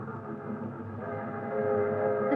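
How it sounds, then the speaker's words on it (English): Train sound effect from a 1944 old-time radio mystery drama, a sustained rumbling train with steady tonal whistle-like drones that swell slightly louder toward the end, heard alone without speech. "I was just thinking about the train."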